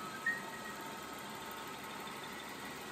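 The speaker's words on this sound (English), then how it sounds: "the V12 humming" A Rolls-Royce Phantom's V12 engine idles with a smooth, steady low hum, close and unchanging for a few seconds.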